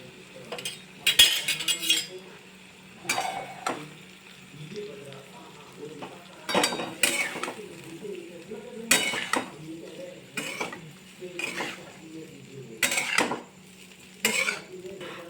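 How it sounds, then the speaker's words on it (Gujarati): Bottle gourd muthiya is gently stirred in a pan, with bursts of metal utensil clinks and scrapes over a light frying sizzle, separated by quieter pauses. "હવે આપણે મૂઠિયા એડ કરી દઈશું આની અંદર અને બધું જ આપણે હળવા હાથે મિક્સ કરી દઈશું"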